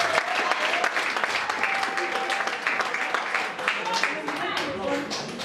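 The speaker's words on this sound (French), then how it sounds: "Applaudissez le pasteur." Dense, steady applause from an audience cheering a pastor at a May Day celebration, continuous loud clapping with crowd voices mixed in throughout.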